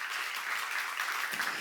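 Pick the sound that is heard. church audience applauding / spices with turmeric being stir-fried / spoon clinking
church audience applauding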